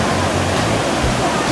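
A small waterfall pours over rocks in a shallow river in Trikala, Greece, a loud, steady rushing roar close by with no pauses.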